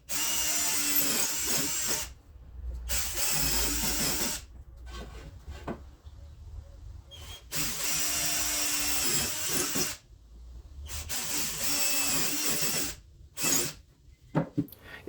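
A drill drives screws into a wooden shelf in several close, steady whirring bursts of about two to three seconds each, separated by short silences and a few soft handling knocks.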